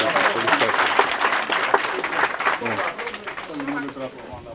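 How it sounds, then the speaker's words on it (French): Steady applause from an audience at a sub-prefect installation ceremony, dense clapping throughout with a voice heard over it. "Des applaudissements"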